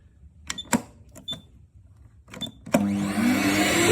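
A Limatic UVC Carbon Dry Steam-Vac machine is started after a few button clicks and beeps, then spins up into a loud steady motor whine and airflow roar, close by with no talking.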